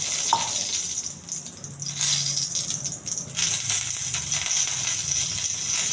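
Cumin seeds and dried chillies frying in hot oil in a pan, a bright steady crackling sizzle close up that swells after a brief settling, with no voices.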